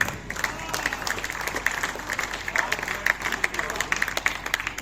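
Audience applause at a poetry recital on the stage of a historic Chaiti fair, steady and fairly dense clapping that carries on throughout, mixed with crowd noise and some voices.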